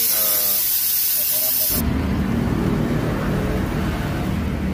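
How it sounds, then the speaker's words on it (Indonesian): A pressure washer sprays the AC condenser of a car from the front, a loud continuous hiss that shifts abruptly into a heavier, lower rushing of water partway through. "Ini bagian kondensornya disemprot juga dari depan"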